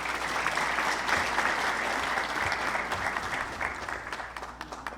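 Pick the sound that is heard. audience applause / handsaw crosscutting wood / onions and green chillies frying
audience applause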